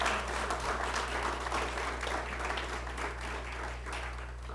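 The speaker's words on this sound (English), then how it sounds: "You can give them a bigger round of applause than that." An audience at a candidate forum in Canon City, Colorado gives a round of applause, a steady wash of many hands clapping at moderate distance over a constant low hum, fading slightly toward the end.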